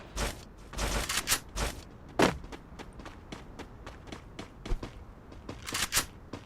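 Gunfire in a battle royale video game: several sharp broadband shots in quick bursts with thuds and movement noise between them, moderately loud and without talk.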